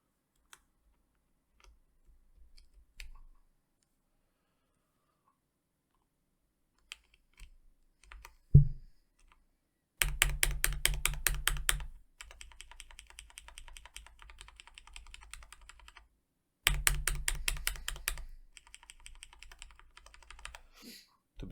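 Typing on a mechanical keyboard fitted with Kailh Burnt Orange switches: after a few scattered clicks, two dense, loud bursts of rapid keystrokes, each trailing into lighter, quieter clacking, close up with no voices.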